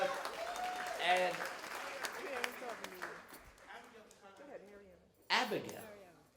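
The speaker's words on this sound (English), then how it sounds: "Give a round of applause." An audience applauds at a Caribbean Heritage event, faint clapping partly masked by someone speaking over it, with a brief louder burst near the end.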